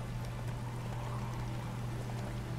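A flowing stream in the video game The Witcher 3 gives a steady, even rush of water, continuous and fairly close with no breaks and no voices.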